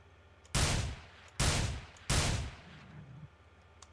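Gunfire in STALKER Call of Pripyat, three loud close shots evenly spaced over a few seconds, each a sharp burst with a short decaying tail, against quiet ambience.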